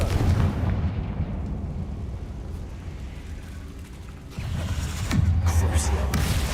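Spell blast of the Confringo fire spell in the video game Hogwarts Legacy, a loud booming burst over a dense rumbling low end, with a second heavier impact near the end and faint voice underneath.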